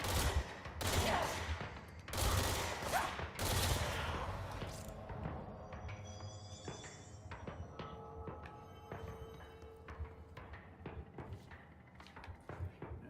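Gunfire in the video game Control, rapid bursts of shots and impacts in the first few seconds, then a fading tail of mechanical game ambience and clicks.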